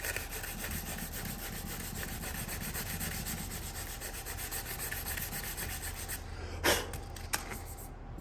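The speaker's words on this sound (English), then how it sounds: "I can fix that with the 320 grit sandpaper." 320 grit sandpaper rubs back and forth on the wooden stock of a Winchester Model 60A rifle, a close, continuous scratchy rasp, ending with a couple of sharp knocks.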